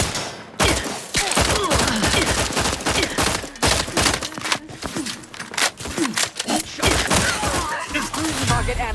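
Gunfire in The Outer Worlds 2 video game: dense bursts of rapid shots and impacts, loud and close, with game voices speaking over the combat.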